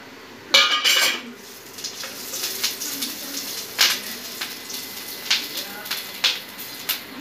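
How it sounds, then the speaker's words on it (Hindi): Green chillies and ginger go into hot ghee for chole, heard as a run of close metal clinks and scrapes of pan and utensil over a low, faint sizzle. "अब मैं इसे इस घी में डालूँगी।"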